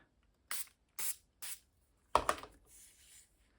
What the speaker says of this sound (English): I also would take my tissue and spray it so it gets wet